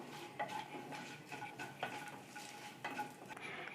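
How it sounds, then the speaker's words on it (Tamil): Whole star anise, cloves and bay leaf pieces roast in a pan, heard as a faint, quiet sizzle with repeated light clinks and scrapes of a spoon stirring against metal. "அதை லேசாக வறுத்துக்கலாம்."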